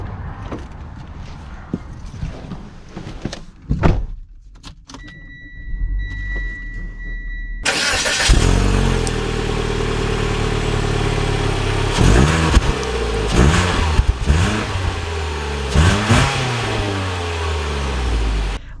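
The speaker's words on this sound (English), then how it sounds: "let's take the Outlander Sport out and see how it drives" A 2021 Mitsubishi Outlander Sport Black Edition starts up after a few quiet clicks and thumps, then its engine settles into a steady hum and rises through several revving surges as it drives off, with a door-chime beep near the start.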